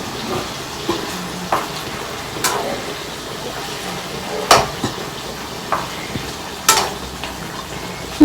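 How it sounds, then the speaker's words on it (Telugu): Onion masala fish fries in a pan with a soft continuous sizzle, broken every second or two by sharp clatters and scrapes of a spatula turning the pieces, some knocks louder than others. "ఇప్పుడేం మోతాయి ఇంకా ఇటుపక్క కూడా బాగా ఫ్రై చేసుకోవాలండి."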